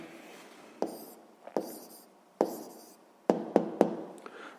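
A pen writes an answer to a sixth-grade maths exercise on paper, giving a soft scratching with several sharp taps and clicks in an irregular rhythm, close up and without talk.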